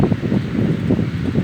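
Wind gusts across a lakeside on a hot day, buffeting the microphone in a continuous low, blustery rumble that rises and falls without pause.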